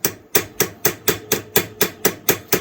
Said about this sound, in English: don't have to hit hard, just the weight of the hammer.